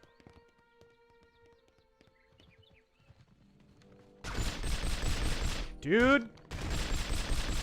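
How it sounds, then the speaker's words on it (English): Smith & Wesson pistol shots in the 007 From Russia With Love video game, loud close reports that arrive in quick succession after a quiet stretch, with a brief spoken word earlier and game noise around them. "The sound this pistol makes. That's your Smith & Wesson"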